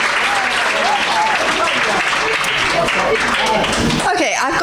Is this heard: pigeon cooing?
no